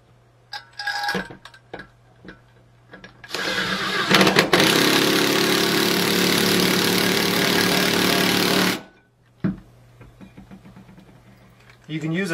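Power drill driving mounting bolts to fix a wall-mounted body press, one long loud continuous whir of about five seconds, framed by scattered clicks and handling knocks.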